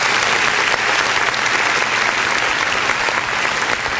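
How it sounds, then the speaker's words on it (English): A crowd claps and applauds steadily and loudly throughout, a dense continuous wash of hands with no pauses, heard during a band's appearance on a talk podcast. "The crowd is clapping it up."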